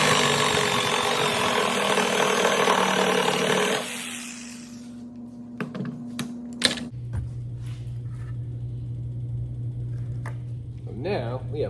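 Handsaw cutting through two clamped wooden pieces to shape a bunny, a steady rasping stroke noise for about four seconds, then sparse clicks and a low hum, with a voice briefly at the end.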